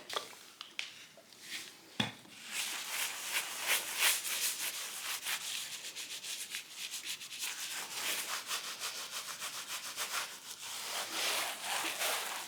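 A mixture is rubbed by hand into a black bear hide, especially along the curling edges, making a soft, continuous scuffing and rubbing texture with a brief knock near the start.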